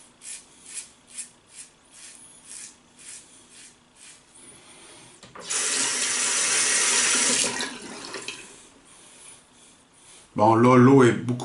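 Tap water runs under a razor during a traditional wet shave, first in short, repeated rinsing bursts, then as a steady louder flow. Talk is heard near the end.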